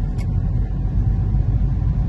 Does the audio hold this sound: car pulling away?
yes